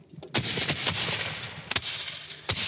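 Civil War era gunfire breaking out on command, several loud sharp shots spaced irregularly over a rumbling background, close and punchy.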